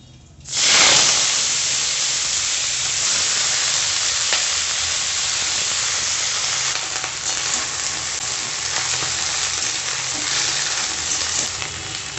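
Telakucha greens dropped into hot oil in a pan burst into a loud, sudden sizzle that settles into a steady, close frying hiss lasting several seconds.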